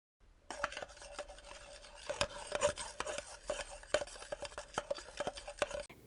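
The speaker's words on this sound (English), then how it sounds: "Then I'm going to combine this with my whisk." Yolk, milk, oil, vanilla and salt being whisked together in a mixing bowl for sponge cake batter: steady scraping and rasping strokes with sharp clicks of the whisk against the bowl, close and continuous, no talk.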